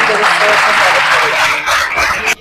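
A crowd at an event in Maharashtra breaks into loud, dense applause and cheering, with voices mixed into the clapping before it cuts off abruptly.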